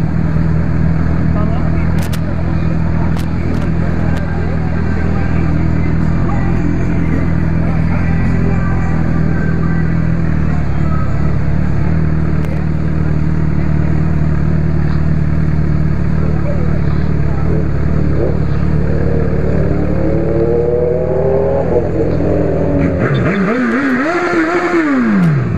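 A Honda CB1000R motorcycle engine runs loudly and continuously up close, with revving and a rising whine near the end as people talk over it.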